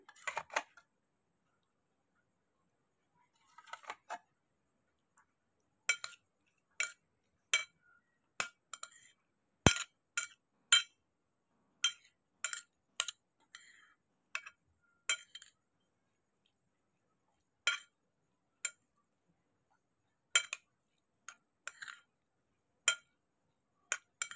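A spicy egg mixture is stirred in a bowl, with sharp, quiet clinks of the utensil against the bowl coming in irregular clusters between silent pauses. No one speaks.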